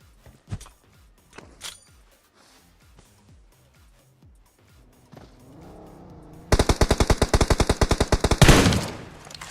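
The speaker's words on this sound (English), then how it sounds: "We also have another team in the distance taking shots." Footsteps and scattered single shots come first in a battle royale video game, then a rapid, loud burst of automatic gunfire from another team rattles off and trails into echoing fire.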